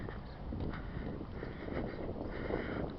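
Strong, steady wind roars and buffets the microphone continuously, a dense low rumble with gusty swells and no pause.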